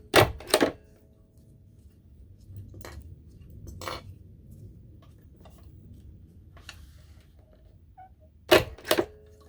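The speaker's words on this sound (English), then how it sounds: "I usually staple the one clip first" A hand stapler snaps a clip in place: sharp, close clacks in pairs at the start and end, with single clicks in between over a quiet room.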